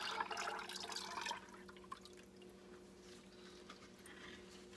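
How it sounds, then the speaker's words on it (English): Melted hard oils being poured into room-temperature liquid oils for black cherry cold process soap, a soft liquid pour for about a second and a half, then a faint trickle over low background hum. "we're going to pour our melted hard oils into our room temperature liquid oils"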